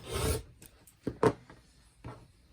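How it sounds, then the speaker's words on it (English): Rotary cutter or scissors trimming a quilt block's fabric and paper to a quarter inch, a few short soft rasping cuts close by with quiet pauses between. "I'm going to trim 1/4 inch"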